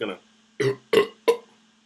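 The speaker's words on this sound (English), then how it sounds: "He's gonna belch" A man belches repeatedly: one long low burp, then after a pause three more short, loud gulping belches in quick succession, close and alone with no other sound.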